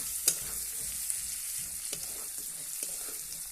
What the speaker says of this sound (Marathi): त्यानंतर कढीपत्ता टाकूया परत थोडस तेल टाकूया आता हे चांगलं परतून घ्यायचं आहे